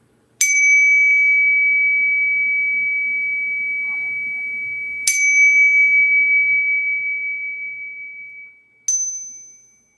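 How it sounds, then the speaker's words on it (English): A chime is struck three times. Each strike gives a clear, bright, bell-like tone that rings out and fades slowly, with a faint murmur underneath. "we're gonna do start off with the chimes"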